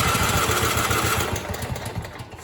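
Riding lawn mower engine running rough after its starter solenoid is bypassed, a loud close chugging drone with a rapid uneven pulse that eases slightly toward the end.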